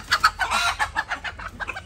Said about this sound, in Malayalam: ഇത് നമ്മളെ പഴയ കോഴികളിലെ ഒന്നാണ്